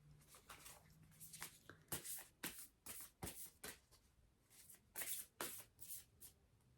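A deck of tarot cards is shuffled by hand in a steady run of soft riffling bursts, close and fairly quiet.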